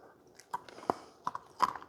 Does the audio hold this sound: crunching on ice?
yes